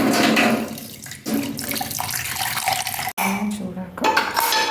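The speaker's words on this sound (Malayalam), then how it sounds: "കുറച്ച് വെള്ളം കൂടെ വീഴ്ത്തി മിക്സ് ചെയ്യാം." Water splashes into a bowl of freshly ground batter and gets stirred in, a running, sloshing wash with light clinks of utensils against the vessel.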